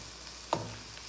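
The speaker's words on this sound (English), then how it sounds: "So that's how you brown your meat." Ground meat browns in a frying pan with a steady, close sizzle and crackle, plus one brief utensil clink partway through; no one speaks.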